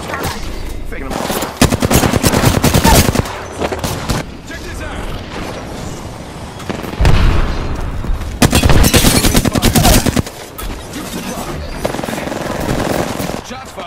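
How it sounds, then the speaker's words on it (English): Enemies lay down heavy gunfire in a third-person shooter, with long rattling automatic bursts and clustered shots. Some stretches pause briefly before firing resumes, and a voice seems to speak under the shooting. "The enemies are shooting."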